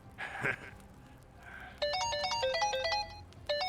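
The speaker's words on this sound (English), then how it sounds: "Okay, whose phone is that?" A mobile phone ringtone chirps in the video game Yakuza: Like a Dragon, a bright repeating electronic melody that starts after a brief lead-in and rings loud in two bursts.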